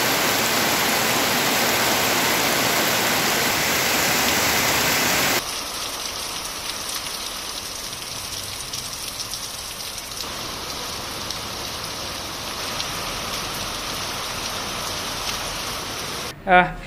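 Heavy rain pours down in Bihar as a weakened Cyclone Yaas passes, a dense loud hiss that drops abruptly to a lighter patter partway through, with a voice speaking over it.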